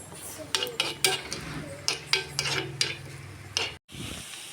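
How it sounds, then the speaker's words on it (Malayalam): Ginger garlic paste goes into hot oil in a pan and is stirred. Repeated clinking scrapes of a spoon against metal sound close over a low sizzle, ending in a brief silence before a softer scrape. "എണ്ണ ചൂടായപ്പോൾ ഇനി ഇഞ്ചി വെളുത്തുള്ളി പേസ്റ്റ് കൂടെ ഇടണം."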